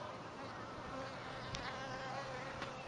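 Honeybees swarming over exposed comb in a wall hive: a dense, continuous buzzing hum of many bees close by, with a couple of brief sharp ticks over it.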